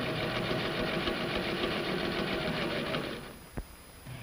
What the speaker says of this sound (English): top stitches the facing to the seam